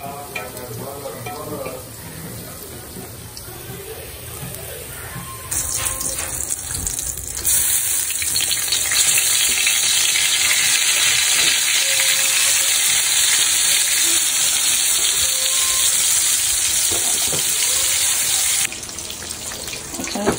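Garlic and dried chillies sizzle in hot oil for khichuri, a steady loud frying hiss that swells partway through and carries on alone until it drops near the end.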